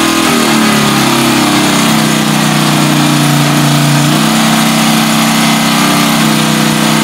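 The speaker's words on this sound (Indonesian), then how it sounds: "Di sini bising sekali karena mesin kita hidup" A loud engine runs continuously at close range, its droning pitch shifting slightly before settling into a steady roar.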